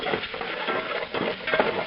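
Tomato sauce with paprika in it gets stirred in a pot, a spoon scraping and swishing while the sauce sizzles gently underneath; short and close, with no talking.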